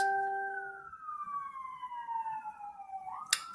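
A police siren passes down a street in East Baltimore, a moderately distant wailing tone that slides steadily downward in pitch as it moves away, with a short sharp knock near the end.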